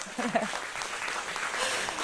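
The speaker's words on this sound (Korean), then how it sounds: "박수 부탁드립니다, 여러분" Audience of fans at a World of Warcraft esports tournament in a Mokdong studio applauding the players, a faint, even wash of clapping from across the hall, with a brief voice at the start.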